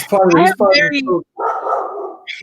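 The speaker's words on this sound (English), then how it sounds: "my dog is freaking out on me here" A pet dog barks and yips loudly several times in quick bursts, close by, followed by a whining, whimpering sound and a short final yelp.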